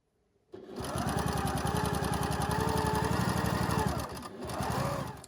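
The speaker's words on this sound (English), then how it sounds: "we're now going to sew the 3rd one on" A sewing machine stitches quilt pieces together, starting abruptly after a short silence and running in a fast, steady close-up whir for about three and a half seconds, pausing briefly, then resuming.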